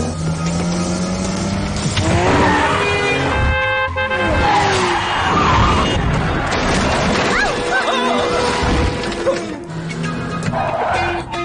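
A car driven fast in a Tamil-dubbed Korean action movie, with loud revving engine and tire skids woven through dense film soundtrack music and effects, and voices speaking over it.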